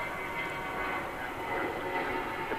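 United Airlines airliner at Dallas/Fort Worth International Airport at night, a steady distant engine roar that holds at an even level throughout with no talk.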